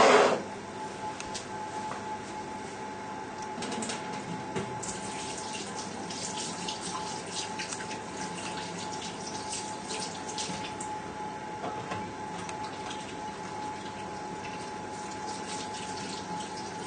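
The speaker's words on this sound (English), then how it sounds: "go and give your hands a good wash" Hands being washed under a running kitchen tap during home cooking, a steady close rush of water that carries on for the whole stretch after a brief louder start.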